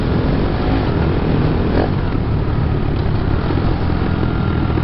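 A motorcycle engine with a sticking carburetor throttle slide drones steadily and loudly, likely riding along a road in Vietnam between Hue and Phong Nha, with a slight rise in pitch near the middle.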